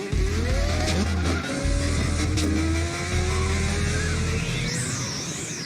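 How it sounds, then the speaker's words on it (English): A rotary-engined drift car is held high in the revs and kept on throttle, a loud continuous engine note rising and wavering in pitch, with tyre squeal and rumble along with it. "Always revving it up, always staying on throttle."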